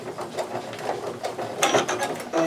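Sewing machine stitching through a vinyl makeup bag, giving a fast mechanical rattling hum with a brief louder burst near the end, close and steady under quiet room sound.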